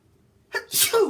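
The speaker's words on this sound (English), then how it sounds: "excuse me, had to sneeze." A single sharp sneeze, a quick inhale followed by a loud explosive burst, close by and alone after brief quiet.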